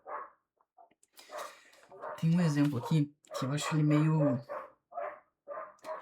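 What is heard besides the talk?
dog barking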